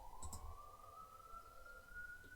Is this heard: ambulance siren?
yes